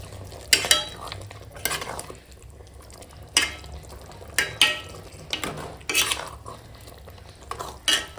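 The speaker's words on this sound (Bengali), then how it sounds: "ধনে পাতা দিয়ে দিলাম আর দিয়ে দেব ঘি দিয়ে ভালো করে মিশিয়ে নেবো" Khichuri of mung dal and rice with winter vegetables, coriander leaves and ghee is stirred in a pot, giving repeated scraping spoon strokes against the metal over a faint sizzle, close and fairly loud, with no talking.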